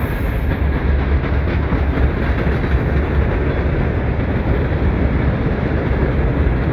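A Lake State Railway freight train rolls past close by, a loud, steady rumble with continuous wheel clatter and no voices.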